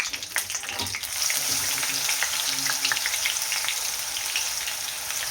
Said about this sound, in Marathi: आता हे खडे मसाले घालते